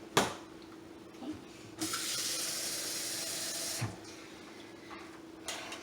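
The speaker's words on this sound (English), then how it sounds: "I'm just going to fill this up with water and pull out a tablespoon from it" Water running from a kitchen tap to fill a tablespoon, a steady hiss of flow for about two seconds between softer handling clatter and brief splashes, heard close with no talking.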